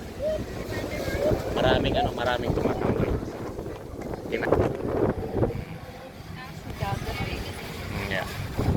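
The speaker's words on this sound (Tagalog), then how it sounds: "Mahangin siya pero mainit ang ano ng hangin niya." Warm wind gusting outdoors near the Baclaran and Mall of Asia area in Manila, rumbling across the microphone while people chat over it.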